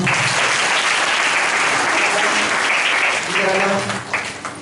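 A church congregation claps loudly and continuously, dense applause filling the room, with a voice rising over it near the end as it tapers off.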